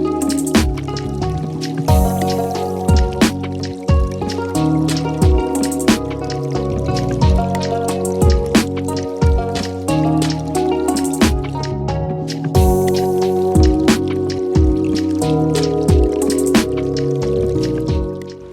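Wet, squishy dripping and squelching as homemade deep conditioner is worked section by section into freshly washed natural hair, with steady rhythmic drips and soft liquid smacks throughout.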